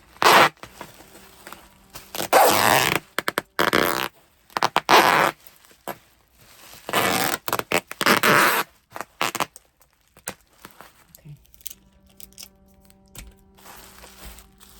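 Packing tape is pulled and torn while a Claire Taylor baby doll is packed for shipping: several loud, rasping screeches of tape unspooling come in separate bursts, with quiet handling noises in the gaps between them.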